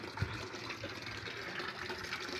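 A container fills with water in a steady, close gushing pour. The even rushing flow carries on without a break, with no voices over it.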